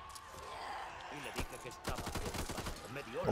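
Gunfire in the co-op zombie shooter Back 4 Blood: rapid automatic bursts and sharp shots, with game effects and voices talking over the action.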